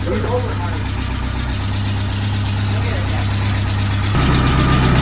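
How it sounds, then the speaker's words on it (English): A Porsche 944 Turbo engine fires up for the first time after repair, settling into a steady, loud idle rumble close by that shifts pitch slightly near the end. "I then filled the car with all its necessary fluids, and I'm putting the coolant in right here. First startup."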